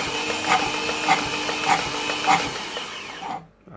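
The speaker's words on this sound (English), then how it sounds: "Let me see if I can crank it." A Vauxhall/Opel Astra 1.6 engine with low compression cranks over the starter in a steady, rhythmic whir, with four evenly spaced compression beats about half a second apart, then cuts off abruptly.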